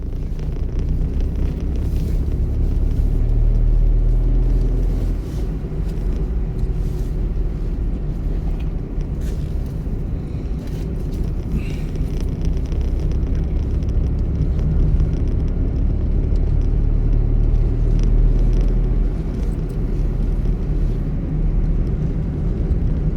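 Car engine revving during a driving lesson, a steady loud drone that rises and holds, heard from inside the car along with wind and road rumble, and no talk.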